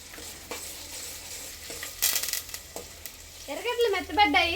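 Curry leaves sizzle in hot oil with fenugreek seeds in a village-style home kitchen pan, a soft frying hiss with light stirring scrapes, fairly quiet and close, with a voice briefly speaking near the end.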